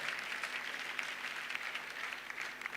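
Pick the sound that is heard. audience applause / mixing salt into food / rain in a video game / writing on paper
audience applause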